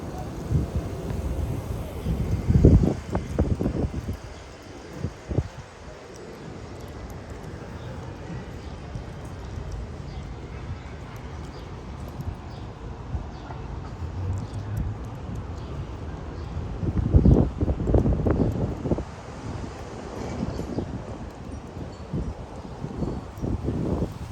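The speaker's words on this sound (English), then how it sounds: "The wind is blowing a little more strong now." Wind gusts buffet the microphone outdoors on a spring walk along red-brick walkways in Washington, DC, with a steady rushing roar and two louder blasts.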